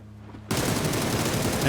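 Sudden burst of rapid gunfire from PUBG erupts after a quiet lead-in, a dense, loud volley of shots sustained to the end in a drive-by headshot during a pro scrim match.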